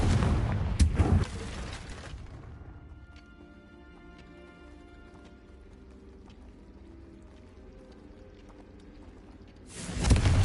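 A Confringo fire spell blast in the wizarding action game Hogwarts Legacy bursts loud and broad at the start, fades into a long low rumbling tail, then a second roaring burst swells at the end.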